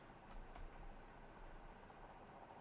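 Faint, sparse keyboard typing at a computer desk during a live stream, a few soft clicks scattered over a low steady background hum, with no talking.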